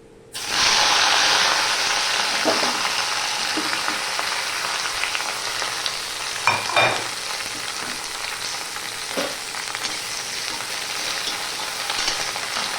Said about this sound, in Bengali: এবার আমি এই ভেন্ডিগুলো দিয়ে দিচ্ছি